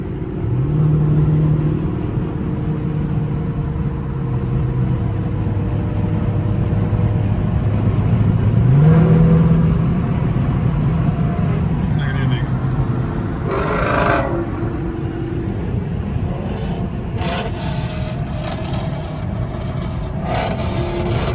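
A Ford Mustang's engine drones steadily while driving, a loud continuous low rumble with rising and falling pitch as it revs, with occasional brief bumps and rattles; no talking.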